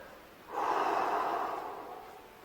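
A single deep, slow breath during a Pilates twisting child's pose, a soft airy exhale that swells, holds and gradually fades, heard close and alone.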